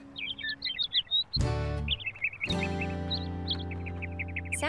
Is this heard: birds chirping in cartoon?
yes